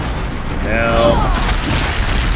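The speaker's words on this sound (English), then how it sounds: "go stand in a corner, you naughty thunderjaw, while I disc launch you to death" A disc launcher fires at a Thunderjaw machine in Horizon Zero Dawn, a booming launch with a whirring, rising mechanical whine and a steady heavy rumble under it, loud and close.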